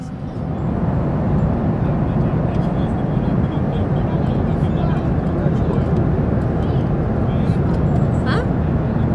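Cabin noise aboard a Batik Air airliner in flight, a loud, steady broadband engine and air roar that fills the whole clip without a break.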